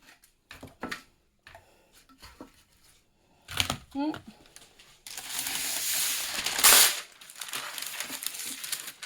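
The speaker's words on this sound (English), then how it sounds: "I'm going to put parchment down first" Parchment paper is pulled out and laid down for cooking black bat wings, giving a sustained crinkly rustle and a sharp tearing burst near the end, preceded by scattered handling clicks and some talking.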